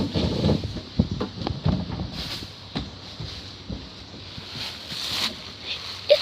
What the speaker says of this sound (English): It's windy out, so I'm so sorry about that